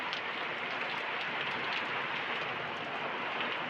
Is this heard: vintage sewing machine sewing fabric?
no